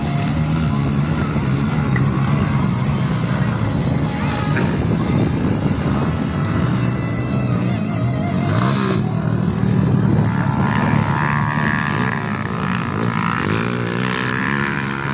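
Pit bike engines racing in a pit bike category event, a continuous dense roar of buzzing motors from a distance, with crowd chatter and talk underneath.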